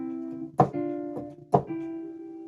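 A sung upper vocal harmony for a soul sample, a sustained close voice holding smooth notes with a couple of brighter swells, fairly quiet and with no other sounds.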